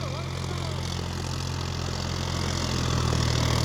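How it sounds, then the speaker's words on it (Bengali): A tractor engine drones steadily while pulling a 6-foot rotavator with 72 new blades through a field, a loud continuous mid-low hum that rises slightly toward the end. "নতুন ফাল আছে, আগে কোনো লোড পড়ে না ইঞ্জিনে"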